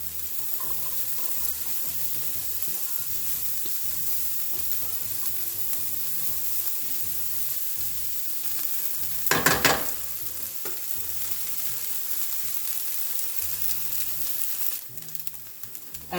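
Peppers and onions fry in oil in a pan with a continuous close sizzle and crackle, briefly louder as food is tossed midway, then settling.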